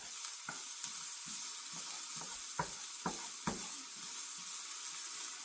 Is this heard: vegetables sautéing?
yes